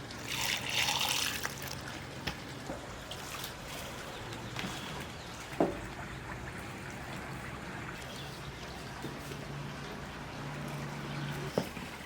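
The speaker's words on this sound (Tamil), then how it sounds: "கொஞ்சம் கொஞ்சமாக தண்ணி சேர்த்து நல்லா மாவு பிசைஞ்சுக்கலாம்." Water trickles and splashes steadily while wheat flour is kneaded by hand into chapati dough, a close, continuous wet sound with occasional soft knocks.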